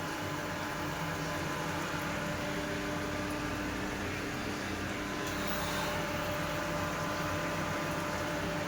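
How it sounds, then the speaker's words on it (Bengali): Paneer pakoras fry in hot oil, giving a steady, dense hiss that holds evenly for the whole stretch with no voices over it. "পাকোড়ি ভাজা শুরু হয়ে গেছে।"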